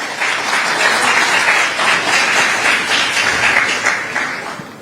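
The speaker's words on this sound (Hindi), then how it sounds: "इस पर तालियां बनती है भाई" Audience applause in a large crowd, a steady dense wash of many hands clapping at a political address, loud and sustained throughout with no talk over it.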